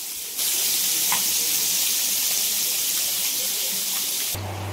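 Fish such as pomfret, surmai and shark fry in a pan of oil, giving a steady, soft, even sizzle that holds for a few seconds with no talk over it.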